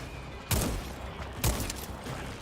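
Two heavy hand cannon shots fire in the video game Second Extinction, about a second apart. Each is a sharp, loud blast with a short rumbling tail, and no voice is heard.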